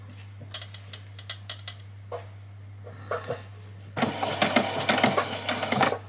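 A domestic sewing machine stitches a small doll's dress seam at a quarter-inch allowance, starting with short bursts of rapid mechanical ticking, then a steadier, louder run of continuous stitching near the end, with a low hum throughout.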